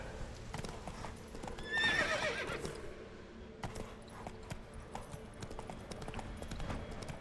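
A horse in The Witcher 3 clip-clops steadily at a trot, with a clear whinny near the start, hoofbeats continuing evenly afterward at moderate loudness.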